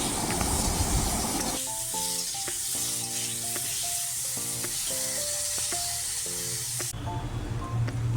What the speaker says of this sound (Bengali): সেই তেলের মধ্যেই আলুগুলো একটু ভেজে নিচ্ছি লাল লাল করে